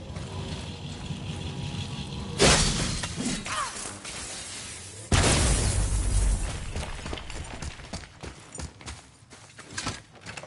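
Objects shatter in the God of War video game with two loud crashing bursts a few seconds apart, each trailing off into clattering, grinding debris and scattered small impacts.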